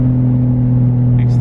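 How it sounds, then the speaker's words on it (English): Nissan 240SX with a swapped 1JZ engine revs in a steady, loud drone, followed by a brief turbo blow-off valve hiss near the end. "I could get used to that blow off."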